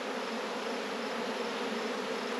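Honey bees buzz steadily at close range while a swarmy nuc is split into four hives, forming a dense, even drone with no pauses and no voices.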